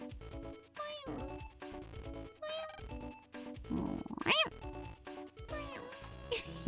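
A cartoonish game cat meow rises sharply once amid looping chiptune background music in Mega Man Battle Network 4 Red Sun.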